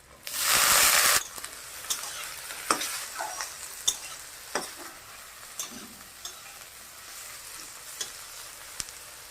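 Eggplant and onion hit hot oil seasoned with black cumin and burst into a loud sizzle for about a second, then settle into a softer steady frying hiss broken by sharp clicks and scrapes of stirring in the pan.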